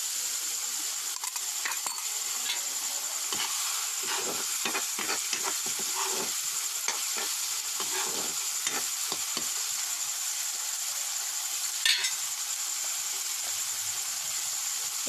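Masala for local chicken curry fries in oil in a pan over a wood-fire kitchen hearth, a constant sizzle broken by scraping stirs at an irregular pace, with no talking.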